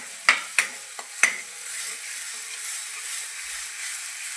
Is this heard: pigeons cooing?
no